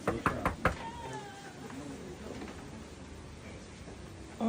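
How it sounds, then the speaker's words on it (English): Knocking on doors before a hurricane: a few sharp, close raps in quick succession at the start, followed by ongoing background noise and indistinct voices. "We knocking on all the doors."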